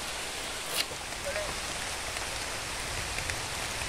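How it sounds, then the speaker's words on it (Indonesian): Heavy rain pours down steadily at a cabin campsite at night, making a dense, even hiss throughout with a faint knock early on. "Sudah hujan kan?"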